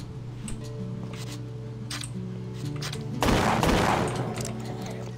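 Gunfire in the zombie shooter game ZIC Zombies in City: scattered shots over a steady game soundtrack, then a loud, dense burst of rapid fire for about a second before it eases off.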